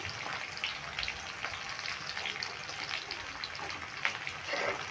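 Ginger, capsicum and green chillies sizzle in a pan for chili paneer, a soft, even, rain-like crackle that holds steadily, with faint stirring noises near the end.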